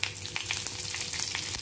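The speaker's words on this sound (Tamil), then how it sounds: "கடுகு நல்லா பொரியுது." Mustard seeds, urad dal and curry leaves fry in hot oil as a tempering for a bajji chili chutney, giving a close, steady crackling sizzle with quick pops and no voices.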